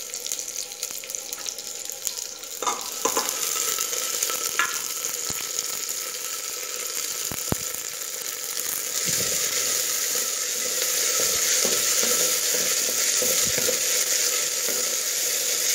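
Onions with dried red and green chillies fry in a pan with a continuous hissing sizzle, marked by occasional spoon clicks and scrapes as they are stirred.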